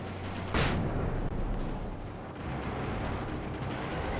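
A grenade going off in the game Alan Wake, a sharp burst early on followed by a sustained low rumble and rolling debris noise lasting several seconds, heard without any voices.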